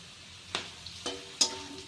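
Curry leaves dropped into hot oil with garlic and dried and green chillies for mango chitranna, giving a steady soft sizzle with several sharp crackling bursts as each addition hits the pan.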